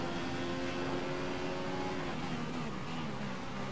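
A Sauber Formula 1 car's engine in the F1 2015 video game at Monaco drones loud and continuous, its tone holding steady and then dipping and wavering slightly toward the end, with no talking.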